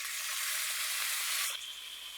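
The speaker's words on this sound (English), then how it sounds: "So we are just going to put these babies right in this hot pan." Shrimp and Brussels sprouts hit hot olive oil in a pan, a loud, close, steady hiss of sizzling frying that eases slightly after a moment.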